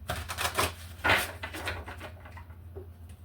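Rapid papery riffling and soft clacks of cards being shuffled up close, a few quick bursts with pauses, no one speaking.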